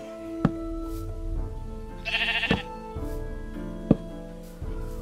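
Sheep in Minecraft bleat several times in short calls, moderately close, over a faint musical background with a brief crunchy scraping noise in the middle.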